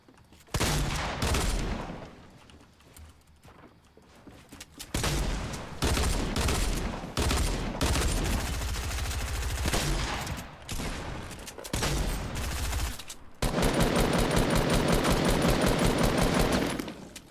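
P90 SMG fire in Fortnite comes in loud, rapid full-auto bursts separated by short pauses, with a long sustained burst near the end and no talking in the clip.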